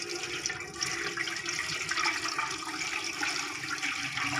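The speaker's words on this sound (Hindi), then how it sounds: "और अब इसमें पानी ऐड कर देंगे।" Water pours into a cooking pot holding whole spices under a grill rack, prepared for steaming chicken, making a steady rushing splash that stays loud and continuous at close range.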